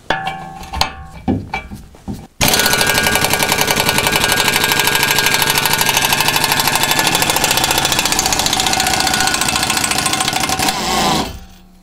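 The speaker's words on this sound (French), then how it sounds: "Vu qu'il y a la place ici, je vais y aller à la clé à choc." A handheld impact wrench spins off a 19 mm bolt: after a few metallic clicks, a loud, continuous rapid hammering rattle runs for about nine seconds, then stops abruptly.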